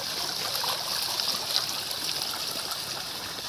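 Water arrives and flows through a farm field, a steady close trickling and gurgling stream with no voices.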